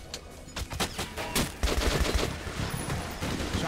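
Rapid gunfire bursts from the first-person shooter Metro Redux, a cluster of sharp loud shots followed by denser sustained firing, with no talk.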